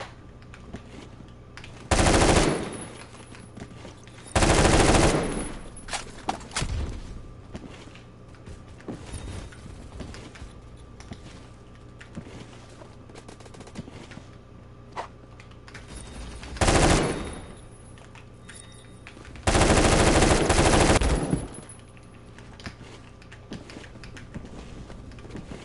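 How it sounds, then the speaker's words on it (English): Bursts of automatic AK-12 rifle fire in the Phantom Forces shooting game, four loud sustained volleys spread apart, with quieter mechanical clicks and faint background sounds between them and no speech. "This might be the best AK-12 gun in the entire lineup."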